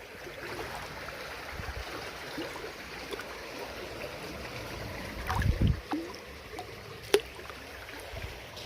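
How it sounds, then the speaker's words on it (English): A shallow stream trickles and tinkles along at a mudlarking spot, a faint continuous wash of water with a few louder splashes and knocks of handled stones. "You can hear that water like tinkling along behind me."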